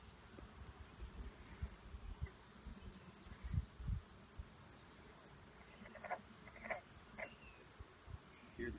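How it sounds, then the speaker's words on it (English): Frogs calling near beehives at an apiary, faint scattered croaks and chirps over a low rustling background, with irregular soft thumps and handling noise close by. "Hear the frogs again. Yep. A lot louder today."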